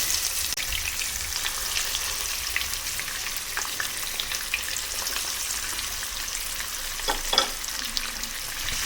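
Rohu fish pieces frying in hot oil in a pan for a Bengali fish curry, a continuous crackling sizzle with scattered sharp pops and spatters, close and steady.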